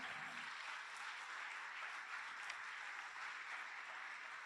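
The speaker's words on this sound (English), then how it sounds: "Can we clap for Syed and Gina?" Audience applauding a couple on stage at a talk about surviving homelessness in Mumbai, a dense, steady wash of many hands clapping that holds at an even level throughout.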